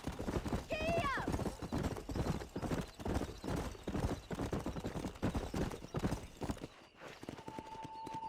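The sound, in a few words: horses galloping in video game Red Dead Redemption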